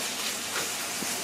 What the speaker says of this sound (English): We are going to saute the zucchini for roughly 5 to 6 minutes to get some caramelized going on